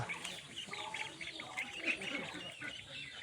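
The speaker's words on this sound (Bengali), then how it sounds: "পাতি হাঁস" Domestic ducks quacking and chirping softly in the distance, scattered calls over a faint outdoor background.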